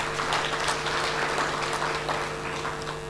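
Audience applause at the launch of a national payments strategy, a steady, fairly even wash of clapping over a constant electrical hum, without talk.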